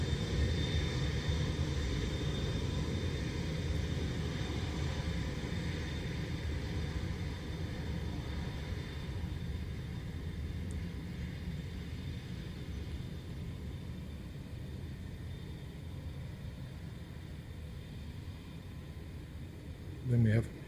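An aircraft lands at Dublin Airport, heard as a distant, steady engine roar that slowly fades, with a voice talking over it and a brief bump at the end.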